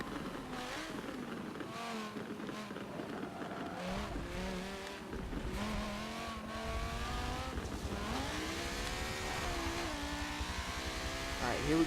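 An Audi race car engine in Forza Motorsport 7, revving and shifting through gears with rising and falling pitch, steady and fairly loud, with someone talking over it.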